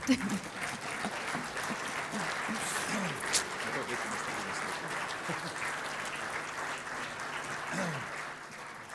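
Audience in an energy-sector conference hall applauding steadily for the full stretch, a dense, even patter of many clapping hands with a slight swell near the end.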